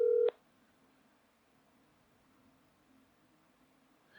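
A phone call is dialed: one short, clear keypad tone sounds at the start, followed by near silence with only a faint low hum.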